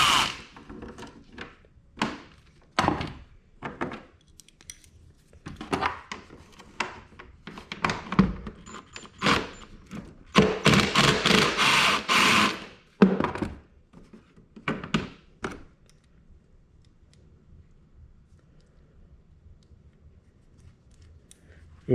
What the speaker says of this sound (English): These are T30 bolts with a 10mm nut on the back, so we need to remove those.